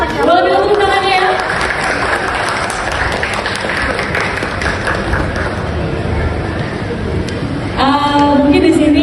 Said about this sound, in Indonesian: Soshi Sakiyama, boleh minta tepuk tangannya ya?